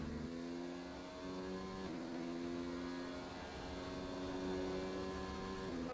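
A race car on a flying lap in a racing video game at the Australia circuit: a steady, faint engine drone holds a tonal whine with small pitch shifts, with no voices.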